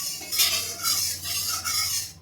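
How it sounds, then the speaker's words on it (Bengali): A metal spatula stirs hot oil in a wok before rui fish is fried, giving repeated soft scraping and clinking strokes in a steady rhythm, close and alone with no talk. "আমি একটু খুন্তি দিয়ে নাড়িয়ে নেব,"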